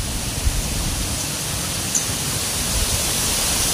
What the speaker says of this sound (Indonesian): Angin berhembus dengan sangat kencang